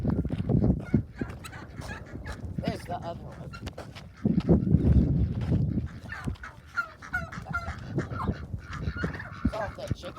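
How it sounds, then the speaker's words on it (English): Chickens, ducks and turkeys on a farm clucking, honking and gobbling at close range, with someone talking over the birds throughout. "Chickens and ducks and turkeys."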